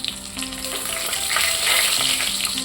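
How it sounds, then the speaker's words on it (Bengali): Fish pieces fry in hot oil until reddish-brown, a loud, dense sizzle close by with a faint steady hum underneath. "মাছগুলো একদম লাল লালভাবে ভাজা হয়ে গিয়েছে"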